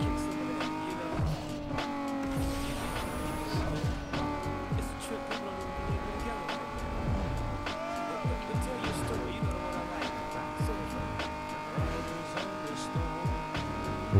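Race cars in the Need for Speed Underground 2 racing game drone with steady engine tones, shifting pitch through gear changes, with clicks and tire noise scattered throughout, while someone talks over the action.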